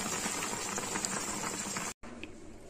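A thin Pabda fish curry with black cumin and eggplant bubbles steadily in a pot, a soft continuous boiling fizz with faint popping, quiet and close, with a brief dropout near the end.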